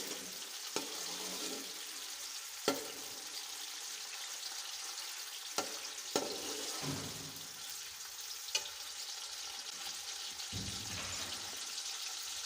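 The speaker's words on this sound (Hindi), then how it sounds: "प्याज को हल्का सा भून लेंगे" Finely chopped onion frying lightly in hot oil makes a steady close hiss for the whole stretch, broken by several sharp knocks of a utensil against the pan.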